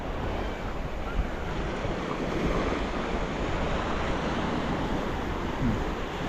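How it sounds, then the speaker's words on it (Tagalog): Strong waves wash continuously onto a shore in the afternoon, a dense roar of surf mixed with heavy wind buffeting the microphone, steady and loud throughout with no clear pauses. "At medyo malakas ang alon ngayong hapon"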